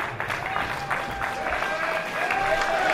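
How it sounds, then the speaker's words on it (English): Sustained applause from a large crowd at a wrestling event, dense clapping filling the space with a few cheers rising above it. "And the applause continues."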